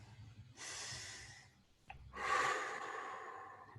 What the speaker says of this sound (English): take another deep breath